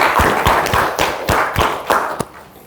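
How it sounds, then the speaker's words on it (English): Audience clapping at a panel discussion during a digital and innovation week event in Ghana, heard as a few separate, uneven hand claps and taps rather than a full ovation, fading toward the end. "Please give him a round of applause."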